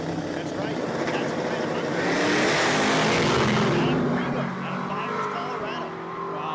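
A Chevrolet Nova drag racing a big-bodied 1956 Chevy at a dragstrip, a loud engine roar that builds and peaks mid-run before easing off, heard under live commentary.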